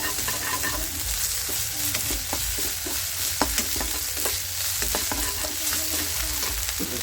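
Ginger garlic paste frying in a pan for a village-style chilli paratha, a steady loud sizzle with repeated sharp scrapes and clacks of stirring throughout.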